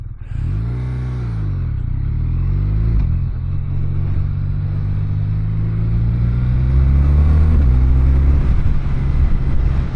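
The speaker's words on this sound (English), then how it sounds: "That Boxer engine, not really sure if it's something that I would prefer." A BMW R12 motorcycle's boxer twin runs close by, a loud, throaty rumble that rises in pitch as the throttle opens, then steadies into a sustained drone and climbs again toward the end, with no voices.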